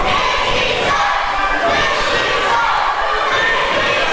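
A wrestler pounds on an opponent in a wrestling video game, the blows landing as dull thuds beneath a loud, constant roaring crowd.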